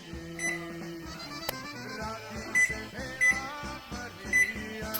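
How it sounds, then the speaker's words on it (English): Kitchen timer set for a lamb roast, giving a few short high electronic beeps at regular intervals over background noise and faint voice-like tones, moderately loud and close. "So, I'm going to set my timer now for 1 more hour."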